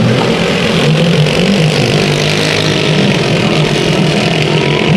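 Race cars roar through a heat race at Bakersfield Speedway, a loud, continuous wall of engine noise from several cars at once with steady revving and no pauses.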